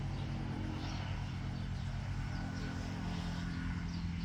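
A steady, faint rumble of road traffic on a road to Ban Dung district in Thailand, engine noise washing along continuously without pauses or voices.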